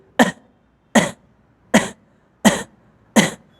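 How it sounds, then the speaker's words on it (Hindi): Five sharp, separate coughs from one person, evenly spaced about a second apart, close and clear with silence between them. "खांसी करके देखिए"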